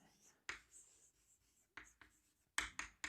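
Chalk or marker writing on a classroom board during a biology lecture, heard as a few short scraping strokes in separate bursts, fairly quiet and close, with pauses between strokes and no talk over them.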